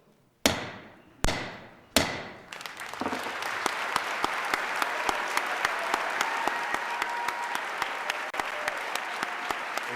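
Three sharp bangs with ringing decay open, then sustained crowd applause builds in a large hall for the Governor of Maine at the State of the State address, with crisp individual claps standing out.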